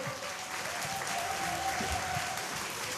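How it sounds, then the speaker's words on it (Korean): A Korean concert audience welcoming a Japanese cultural exchange guest breaks into steady, dense applause that fills the whole stretch at even loudness, with faint crowd noise underneath. "큰 박수로 맞이해주시기 바랍니다"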